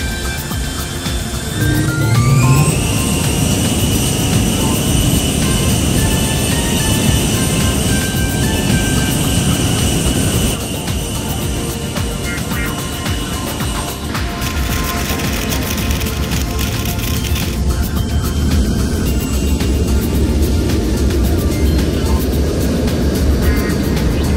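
Boeing 747 jet engines spool up for takeoff to a loud, rising whine and then roar steadily, a sustained near rumble that shifts in tone as the aircraft accelerates.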